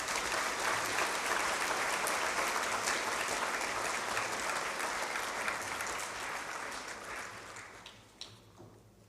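Sustained applause from a school awards ceremony audience, steady for several seconds before gradually thinning out and fading near the end.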